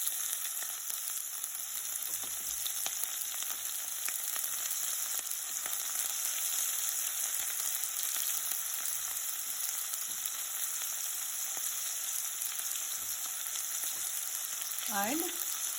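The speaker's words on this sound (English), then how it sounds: "First we have to fry all these things. So we have to fry this onion for 3 to 4 minutes" Ginger, garlic and onion fry in hot oil in a pan for a dhaba-style paneer butter masala, giving a constant, even sizzle with occasional faint clicks of stirring.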